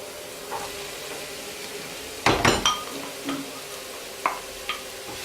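Sweet pepper frying in a pan with onion, a quiet steady sizzle broken by one loud burst of clattering stirring near the middle and a few lighter utensil taps afterward.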